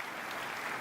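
A crowd claps in steady, dense applause, sustained and fairly loud throughout with no voices standing out.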